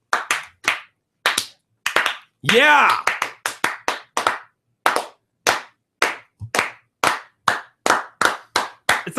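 A few people in a studio clap their hands in sharp, separate, uneven claps, loud and close, with a short spoken interjection partway through.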